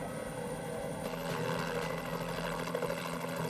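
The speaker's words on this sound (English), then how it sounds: "The state police had a chopper flying around" A state police helicopter flies overhead during a nighttime search, its steady rotor and engine drone loud and continuous, swelling slightly partway through with a broad, rumbling wash.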